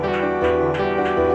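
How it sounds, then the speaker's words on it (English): A song pitched up 100 cents in FL Studio plays as a short melodic loop, bright sustained synth tones with a bouncy repeating rhythm and no speech. "I pitched it up 100, and it sounds like this."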